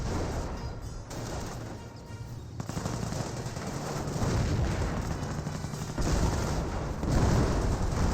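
Sustained artillery and machine-gun fire from the World War II strategy game Company of Heroes, a dense, continuous battle din of rapid bursts and heavy booms that swells louder in the later seconds, with no voices.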